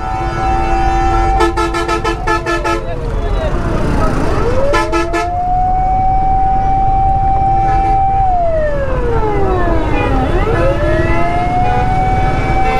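Ambulance wailing in a traffic jam in Chittagong, its siren sweeping up and down loudly and close, mixed with bursts of rapid honking from surrounding vehicles over a constant roar of traffic.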